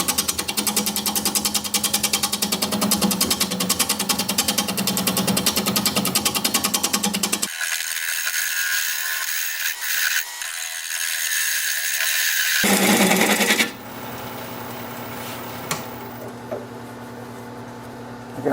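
A wood lathe turns a walnut blank with steady, loud mechanical whirring and rattling, stops into near silence for a few seconds, then restarts at a lower, steadier hum.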